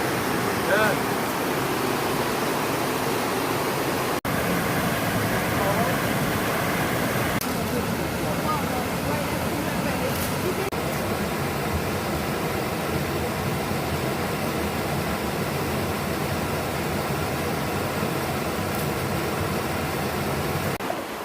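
Creek water flows steadily at Crystal Creek waterfalls, a constant broadband rush holding even from start to end, with faint voices now and then beneath it.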